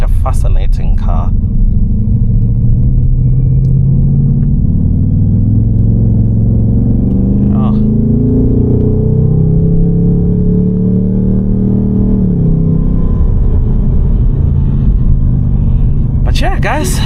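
A 2025 Ford Mustang GT (450 hp) engine rumbles steadily from inside the cabin while driving, its deep growl swelling and easing as the revs change, with brief louder bursts at the start and end.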